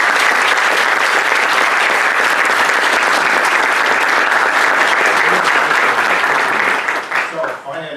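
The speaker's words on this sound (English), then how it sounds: "Please let us applaud Professor Angelo Bassi." A lecture audience at a physics school claps steadily and loudly after a talk on quantum non-locality and cryptography, a dense continuous patter that thins and fades near the end.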